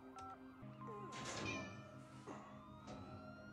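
A house cat in a film scene meows several times, with drawn-out, wavering cries at moderate loudness over a quiet background.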